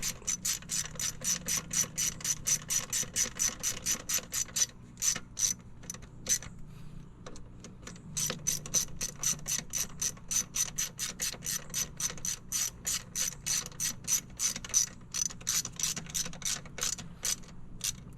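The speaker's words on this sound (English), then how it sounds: "we just want to snug these bolts up" Ratchet clicking steadily as bolts are snugged down on a Suzuki outboard motor during anode replacement, with rapid repeated bursts of clicks, a brief pause midway, then more runs of clicking, close and clear with no talk.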